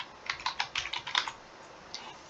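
Brief quick typing on a computer keyboard, about eight close, crisp key clicks in a rapid run, then a single isolated tap after a short pause.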